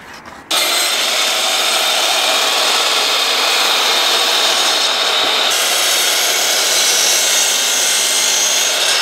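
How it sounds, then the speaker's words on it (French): A power saw cuts a wooden bar tabletop, running loud and continuous after a sharp start, with a slight change in tone partway through the cut. "Ensuite, on va couper notre plateau."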